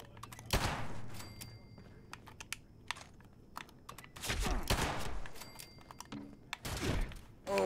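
Sharp gunshots from a favorite gun in Fallout 76 fire in a few spaced loud bursts, mixed with clacky keyboard-like clicks and thumps in between.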